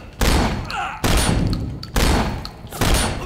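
Gunfire in the action game Sleeping Dogs, with four heavy shots spaced roughly a second apart, each followed by a ringing tail, loud and close, with a voice reacting over them.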